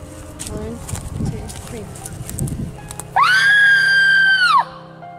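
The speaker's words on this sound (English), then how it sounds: "This is what a scream sounds like from this location to this location." Outdoors at a distance, a single sustained high-pitched scream lasts about a second and a half, following a stretch of indistinct talk and background noise.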